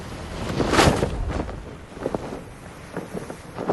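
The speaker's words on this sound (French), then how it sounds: "le vent qui souffle dans les voiles" Wind gusting through the sails of a sailboat on the open ocean, a loud rushing swell early on followed by softer fluttering bursts and creaks, alone without voices.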